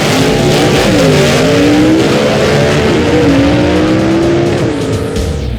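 A gasser drag race car with loud straight pipes roars at close range, engine revving and rising in pitch continuously, with tire squeal mixed in and no pauses.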